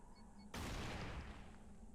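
A grenade goes off in the game Fracture: one sudden, broad blast that rumbles and decays over about a second and a half, heard fairly faintly.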